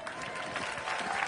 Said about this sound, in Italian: Vai con l'applauso, via!